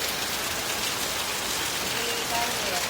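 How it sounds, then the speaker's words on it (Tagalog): Heavy typhoon rain pours near a terrace, a dense, steady hiss of drops hitting surfaces, loud and continuous throughout. "lakas ng ulan dito"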